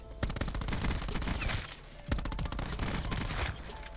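Submachine gun fire in a video game: rapid continuous bursts of automatic shots at steady volume, two long strings broken by a brief gap, with no talking.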